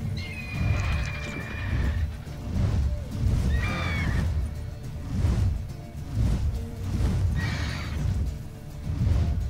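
Horse in The Witcher 3 whinnies three times in high quavering calls, spaced across the stretch, over a steady low rumble of hooves and ambient game sound; no talking.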